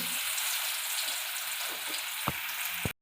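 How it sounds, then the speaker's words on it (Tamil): Murrel fish pieces frying in hot oil, a loud, steady, dense sizzle running throughout with a couple of faint clicks near the end. "இந்த மீன் நம்ம ஒன்று ஒன்றா போட்டு பொரித்து எடுத்துக்கலாம்"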